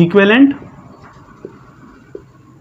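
An equivalent set is written out on a board with a few soft, scratchy strokes, close and faint, just after a short burst of speech.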